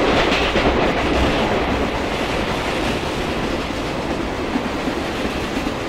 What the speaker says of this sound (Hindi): गजब ट्रैक साउंड और गजब रन